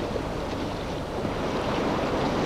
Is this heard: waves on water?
yes